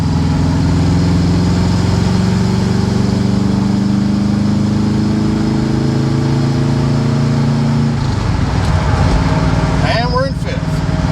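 A C3 Corvette cruising on the interstate gives a steady, loud in-cabin engine drone that holds for about eight seconds. It then drops and roughens as the car shifts into fourth gear.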